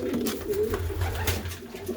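Young racing pigeons coo steadily inside a loft, their low throaty calls overlapping in a continuous murmur close by, with no talking.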